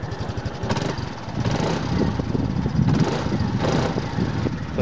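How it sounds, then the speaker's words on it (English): A 2003 Piaggio X9 250 scooter engine revs up and down close by, a steady mid-pitched drone that swells in several short bursts over an idling base, with no voices. "I'll give it a little rev for you."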